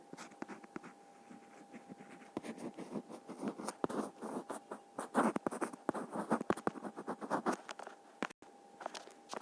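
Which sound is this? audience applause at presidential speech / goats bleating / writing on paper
writing on paper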